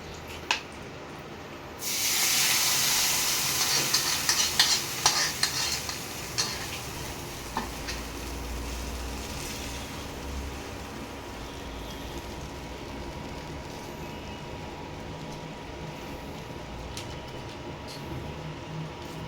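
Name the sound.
spice paste frying in a pan for a pointed gourd dish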